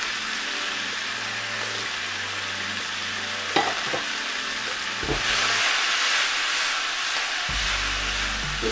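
Vegetables tossed in a hot frying pan, then flat-leaf parsley and spring onion added, a continuous sizzle with a few clunks of the pan and a louder burst of frying toward the end.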